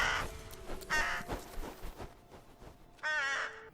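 A crow in the fantasy film Maleficent caws in loud harsh bursts, several calls spread across the clip with a final strong caw, set among film sound effects.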